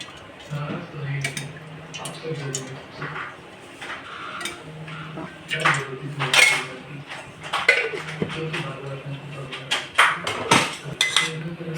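A metal pot is set on a stove and oil is poured in for a cabbage and prawn curry, producing clinks, knocks and scraping of cookware at close range, with a person talking at intervals.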